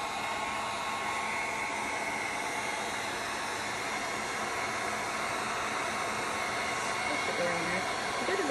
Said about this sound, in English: and I'll get my heat gun.